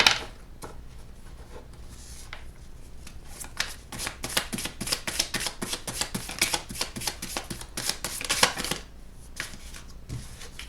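Oracle cards are shuffled by hand in a rapid run of crisp riffling and sliding flicks, close and clear, with no talking.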